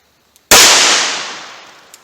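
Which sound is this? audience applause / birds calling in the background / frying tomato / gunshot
gunshot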